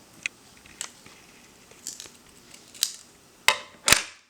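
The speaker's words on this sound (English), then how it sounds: "you want to very carefully cut it off with your scissors" A few sharp, separate snips of scissors cutting through the tab of a roll of photographic film, close and crisp, with the last two cuts louder than the others.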